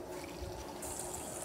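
Water flows steadily from the dispenser of a Frigidaire side-by-side refrigerator, a faint, even rushing stream that holds for the whole moment, with a slightly brighter hiss toward the end.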